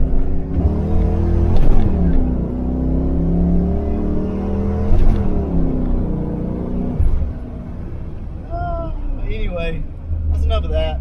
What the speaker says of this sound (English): we're going to come off the gas and shift this thing just quick.